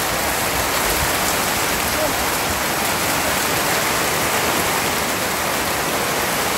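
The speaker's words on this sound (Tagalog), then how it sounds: "Inabot kami ng malakas na ulan." Heavy rain pours steadily and loudly outdoors in Quezon, a dense, unbroken hiss filling the whole stretch with no pauses.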